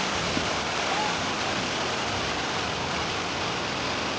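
Water pouring down a waterfall in Salalah, Oman, during the khareef monsoon season, a loud steady broadband rush close by with no pauses.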